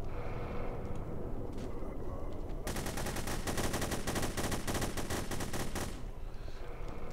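Submachine gun fire in the shooter game The Hidden: a long, dense burst of rapid automatic shots, loud and close, sustained for about three seconds and then cut off, with no talking.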